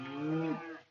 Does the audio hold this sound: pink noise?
no